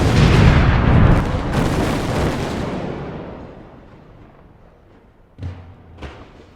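Grenade explosions and gunfire in the Call of Duty video game: a loud, rumbling blast that slowly decays, followed by two sharper distant booms.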